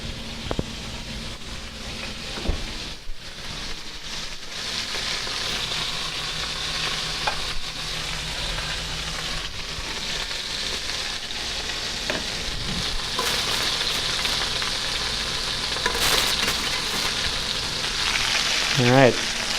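Food searing in a hot pan, a steady, loud sizzle and crackle running throughout with occasional stirring scrapes.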